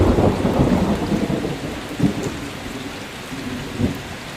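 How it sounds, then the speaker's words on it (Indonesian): Heavy rain pours down steadily over a cemetery, a dense, loud hiss with low rumbles of thunder swelling and fading beneath it, and no voices. "tiba-tiba itu hujan turun gede banget"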